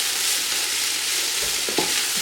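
Bell pepper stirred into chilli con carne frying in a pan: a dense, bright hiss of sizzling with a couple of soft utensil scrapes near the end, close and steady, no talk.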